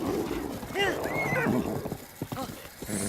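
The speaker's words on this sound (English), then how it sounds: "Run, horse, run." A horse in the video game Breath of the Wild gallops with steady clip-clopping hooves and lets out a rising, wavering neigh, set against continuous game background sound.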